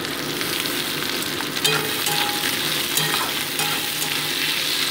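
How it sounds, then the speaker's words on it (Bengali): Chopped onion and green chilli sizzle with potatoes in a hot oiled pan, a steady loud crackling fry with occasional stirring scrapes, close and without talk. "এবার পেঁয়াজ লঙ্কা কুচিটা অ্যাড করে দিচ্ছি এর মধ্যে।"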